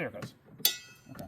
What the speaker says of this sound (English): That cling noise you heard is just a spring inside the arm.